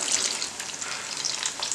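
Jackfruit bajji in maida and rice-flour batter fry in hot oil, giving a steady, close, bubbling sizzle with no pauses or talk.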